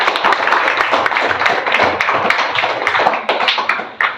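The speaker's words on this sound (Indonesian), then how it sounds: "Beri dulu tepuk tangan untuk kawan kita." A classroom full of students claps together, a dense rattle of many hands with a few voices underneath, sustained for several seconds.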